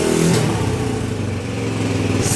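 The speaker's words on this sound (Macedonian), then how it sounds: "Сите ги разбуди во сабајле со моторот" A motorcycle engine revs loudly and steadily close by in the morning, a dense, rough drone that holds throughout with no talking.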